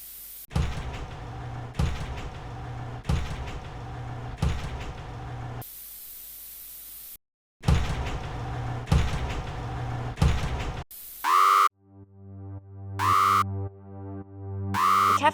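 Malfunctioning cafeteria doors slide open and shut again and again in rhythmic whooshing bursts, broken by a short pause. Electronic tones then ring out at the end.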